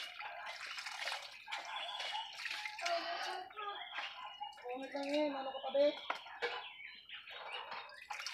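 Unhusked rice grains are washed again in water, with steady sloshing and swishing under close voices talking throughout.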